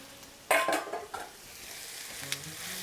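Five or six chopped garlic cloves go into a hot pan for a pot roast, setting off a sudden burst of sizzling with a few scraping stirs. The sizzle then settles into a steady, quieter frying hiss.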